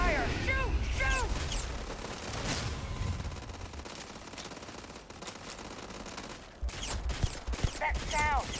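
Gunfire in the space game Starfield plays as a dense, sustained burst of automatic fire with heavy rumbling blasts, while a voice shouts over it and the firing continues almost without a break.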